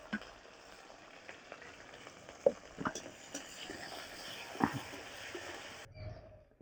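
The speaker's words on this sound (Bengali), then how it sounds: "কেটে রাখা আমি পেঁয়াজটা দেবো, একটু বেশি করে পেঁয়াজটা দিলে ভালো লাগবে।" Chopped onion frying in oil in a pan for a Bengali fish curry, a steady low sizzle with occasional louder spatters and stirring knocks, continuing for several seconds before cutting off abruptly.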